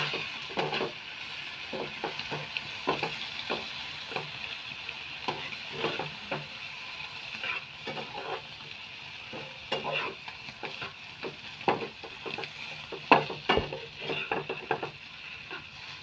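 Egg masala is stirred in a frying pan, repeated scraping strokes of a spatula against metal over a soft sizzle, with occasional sharper knocks.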